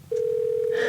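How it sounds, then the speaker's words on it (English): A single steady electronic telephone ringback tone sounds during an outgoing call, starting abruptly and holding loud and unbroken for the rest of the moment. "Oh, it's ringing, it's ringing."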